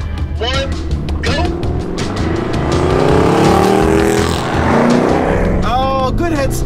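A Jaguar XK8 and a Chevy Corvette, both V8 sports cars, roar through a drag race, their engines revving and climbing through the gears up close, with a driver talking over the constant engine noise.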